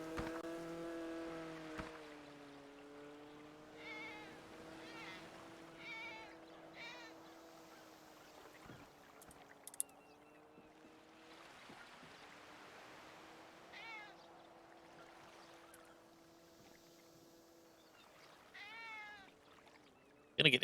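A cat meows several times in short, rising calls at moderate distance, mixed with faint background noise and occasional speech.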